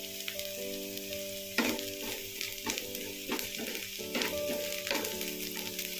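Onion and green chillies fry in a pan for egg curry dosa, a dense sizzle broken by repeated scraping stirs about once a second, with background music underneath.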